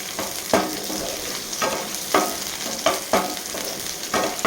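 Onions frying in a pan until brown, a steady sizzle broken by regular scraping stirs about every half second to second, close and alone without voices.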